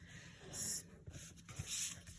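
A bone folder smoothing paper on a card base, heard as soft, close rubbing swipes, two longer strokes separated by light taps and handling noise.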